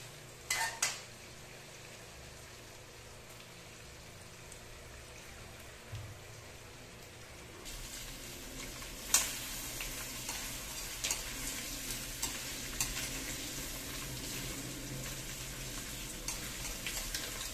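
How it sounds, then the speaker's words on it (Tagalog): Chicken adobo with annatto sautés in a pan, a steady low sizzle and frying hiss that grows busier partway through, broken by occasional clinks and scrapes of a stirring utensil. "Ayan, ihalo-haluin lang natin, igisa natin."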